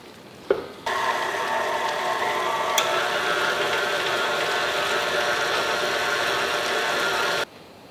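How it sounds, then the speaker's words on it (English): A stand mixer with a paddle attachment churns a Swedish meatball mixture, a loud, steady motor whir with a thumping rhythm that starts after a click, runs about seven seconds, then cuts off. "I'm going to use the paddle attachment on my mixer."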